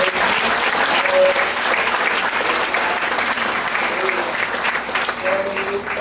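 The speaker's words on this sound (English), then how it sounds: "Can you give the best clap offering to our God?" A church congregation clapping together, dense sustained applause filling the whole stretch at a loud, even level, with a few voices mixed in among the hands.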